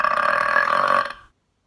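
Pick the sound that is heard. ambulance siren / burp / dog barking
burp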